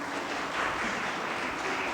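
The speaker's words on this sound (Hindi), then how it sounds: "जोरदार तालियां।" An audience claps steadily at a Ladli Laxmi scheme event honouring a top-scoring student, a dense, continuous patter of many hands lasting the whole moment without talk.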